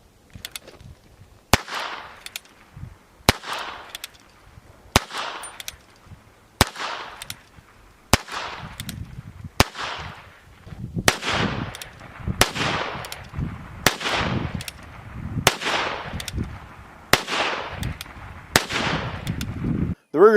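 Federal .22 Magnum 40-grain full metal jacket rounds fire from a Ruger Super Wrangler single-action revolver in a series of about a dozen sharp, loud cracks. The shots come at a slow, even pace with brief echoing tails.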